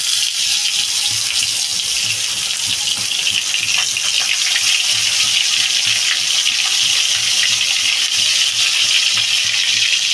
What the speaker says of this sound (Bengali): তো আমার তেলটা বেশ ভালোই গরম হয়ে গেছে, মাছটা এবার দিই।